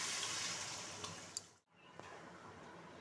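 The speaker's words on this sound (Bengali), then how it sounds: "এবার জল ঢেলে দিচ্ছি" Water poured into a pan of pointed gourd pieces, a steady close rushing pour that briefly cuts out near the middle before resuming.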